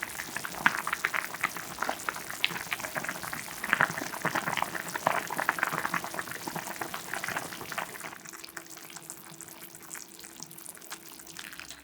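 A pot of mugwort soup with beef broth, perilla powder and sea salt boils steadily, with dense crackling bubbles close by that ease into a quieter simmer near the end.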